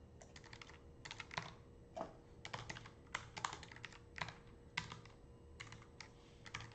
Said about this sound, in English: Let's finish typing this out though